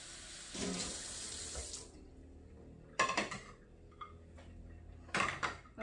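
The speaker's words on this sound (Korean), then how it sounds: "파마늘 씻어 주시고요" Cold tap water running over green onion and garlic being washed in a kitchen sink, with bursts of splashing flow separated by quieter gaps and faint clinks of handling.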